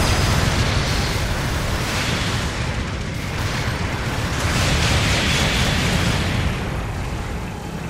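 An enemy mobile suit exploding in a Jamru Fin match: a loud, dense blast roar that rumbles on without pause for several seconds, swelling and fading.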